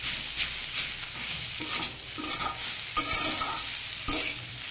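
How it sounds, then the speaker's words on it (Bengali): A spatula scrapes and stirs grass pea (khesari kalai) greens with beans in a pan, moving them back and forth, with a steady soft sizzle of frying underneath and repeated stirring strokes close up. "এই যে খুব নাড়াচাড়া দিতে হবে শাকটা, এভাবে করে আবার সামনে নেব, আবার পিছনে নেব"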